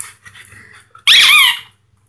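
A dog chews a squeaky toy, giving one loud, sustained squeal of just under half a second after a quieter stretch of faint squeaks and rustling. Nothing else is heard.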